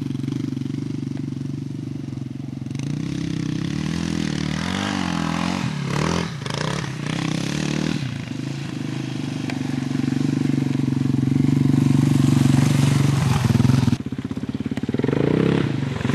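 A Yamaha XT 350 single-cylinder motorcycle engine runs close by, with a steady low thrum that shifts in pitch as the throttle changes and climbs briefly toward the end, alone without talk.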